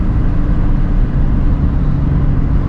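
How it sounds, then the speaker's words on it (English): Nissan 350Z engine droning steadily from inside the car while cruising, a loud continuous low rumble with little change in pitch across the stretch. "Nice little downshifts."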